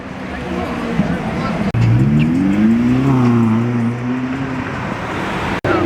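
An Aston Martin sports car pulls up on a Beverly Hills street, its engine note rising and falling as it rolls in, under people chatting nearby.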